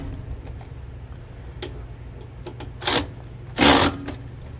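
Center bolts on feed accelerator covers are tightened, probably with an electric ratchet, producing light ticking and clicks followed by two brief, louder whirring bursts near the end, close by and without talk.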